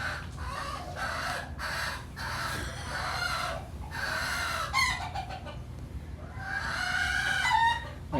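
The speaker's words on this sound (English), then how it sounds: "I think the rooster has a way of expressing their frustration." A rooster crows again and again in a series of loud, close calls, with clucking and other fowl sounds between the crows and no talk.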